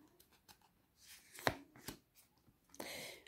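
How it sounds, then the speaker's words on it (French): Tarot cards shuffled by hand at close range, quiet papery riffles and taps in irregular bursts with brief pauses between them. "Je mélange et je prends les cartes."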